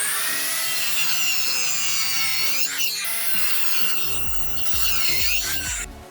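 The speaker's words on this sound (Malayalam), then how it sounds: "നമുക്ക് ഇതിന് കറക്റ്റ് സൈസിലേക്ക് ഒന്ന് കട്ട് ചെയ്തെടുക്കാം." A sanded wooden piece being cut to size with a power saw, a loud, steady whining cut with rhythmic rasping strokes toward the end, close up with no talk.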